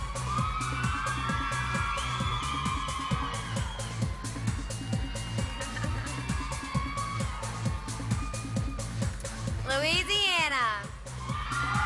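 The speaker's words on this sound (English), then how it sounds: "Give a round of applause for Kentucky." Pageant audience cheering and applauding for a Miss Teen USA contestant from Kentucky, a dense, loud crowd roar with whoops and shouts held throughout and a brief high whistle or scream near the end.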